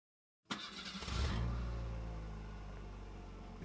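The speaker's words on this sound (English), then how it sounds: "The car." A video game car engine starts and runs, a sustained low rumble with a brief rising rev at the start, fairly loud and steady, with no talk over it.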